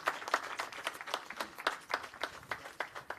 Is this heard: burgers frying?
no